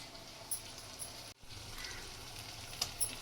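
Ginger garlic paste with coriander, mint and curry leaves sizzling in a hot pan while being stirred for homemade prawn biryani, a steady close crackle with a few sharper spoon scrapes and one brief drop-out.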